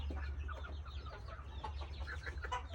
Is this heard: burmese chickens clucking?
yes